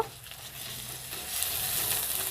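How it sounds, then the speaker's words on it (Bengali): Onion, garlic and ginger frying in hot oil, with a steady close sizzle that grows slightly louder and denser toward the end, alone with no talking. "আদাটা দিয়েও আমি পেঁয়াজ রসুন আর আদাটা আমি ভালো করে তেলের সঙ্গে ভেজে নেব"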